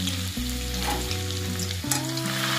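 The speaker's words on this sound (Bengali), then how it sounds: "রসুন কুচিটা দিয়ে একটু নাড়াচাড়া করে আমি এবার আদা কুচিটা দিচ্ছি।" Chopped garlic and then ginger frying in hot oil for mushroom fried rice, a steady close sizzle that continues throughout, with tonal music playing over it and no speech.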